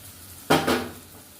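A short burst of sizzling as chicken pakora batter drops into hot oil, a sharp frying hiss that surges twice and then settles, close and fairly loud with no talking.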